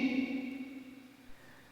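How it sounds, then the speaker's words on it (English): A sung vocal drenched in heavy reverb, a sustained tone that blooms and slowly decays into a long, washy tail, heard alone and fairly quiet. "So I just did a crap ton of reverb, and it sounds like this."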